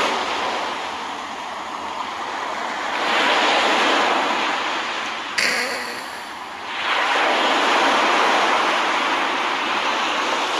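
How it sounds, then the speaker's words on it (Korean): Ocean surf at a marine park, broad rushing waves rising and falling in two loud swells, steady and close with no talking. "소리를 크게 하면은 또 바다 소리가 들립니다"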